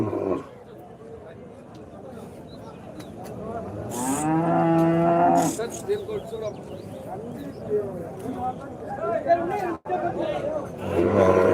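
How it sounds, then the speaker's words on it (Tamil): Cattle at the Kundarapalli livestock market, with one loud, drawn-out moo close by amid busy market chatter as people talk over the din. "நல்லா அலிகா டைப்பில் ஒரு காளை பெரிய காளையாக நல்லா"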